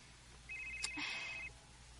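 A telephone rings with an incoming call, giving one short, clear electronic trill in a quiet room, close by and alone with no voices.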